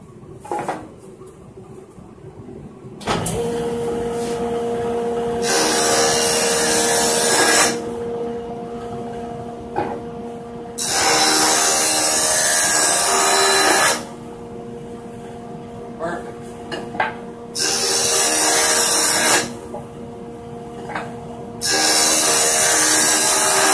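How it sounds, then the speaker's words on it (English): A jointer flattens the edges of wooden cross sticks for a bench rest. Several loud, roaring passes of the cutter alternate with the machine's steadier idling hum in a workshop. "I think I'm going to use the joiner to clean those up"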